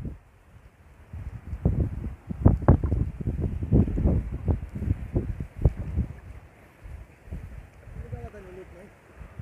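Strong wind buffets the microphone in heavy, gusting bursts, with low rumbling roars rising and falling throughout, at a fish pond in Taif, Saudi Arabia.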